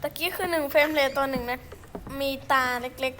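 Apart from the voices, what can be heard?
None of the usual background noises is heard.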